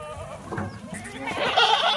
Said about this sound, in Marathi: मेंढ्या बघा,